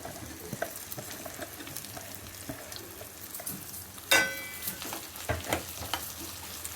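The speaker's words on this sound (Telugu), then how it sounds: "ఆనియన్ వేగిందండి, ఇప్పుడు బెండకాయలు వేస్తున్నాను" Okra added to onions frying in a pan, a soft continuous sizzle with scattered crackles, a sharp clatter partway through followed by a few stirring knocks, close and without talk.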